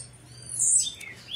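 A pet songbird from a breeder sings a single short, bright chirping phrase, close and clear against a quiet background.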